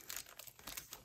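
Paper and plastic packaging of a Paper Pumpkin craft kit being opened with scissors gives a short, quiet crinkling and rustling, a few soft crackles close by with no talking.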